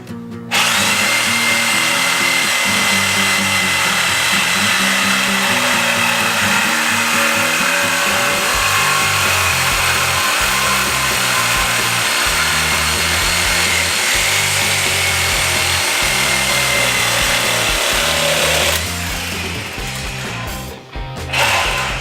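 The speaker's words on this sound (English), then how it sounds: "I'm going to go ahead and cut the exhaust piece off" A loud power tool cuts through the exhaust pipe on an old inline-six engine, a harsh continuous grinding whine that holds steady for about twenty seconds, then eases and stops.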